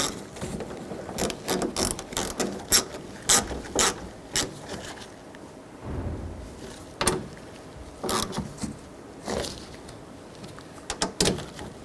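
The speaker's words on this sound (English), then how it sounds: "grab the other nuts. And snug those down, not too tight." Ratchet tightening the mounting nuts on a side mirror of a 2007-11 Honda CR-V, heard as repeated bursts of quick clicking spaced through the clip, fairly close and alone without talk.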